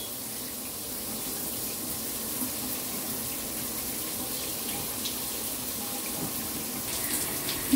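Water running steadily from a tap for a plum-headed parakeet's shower, a continuous close hiss and splash with a slight surge near the end.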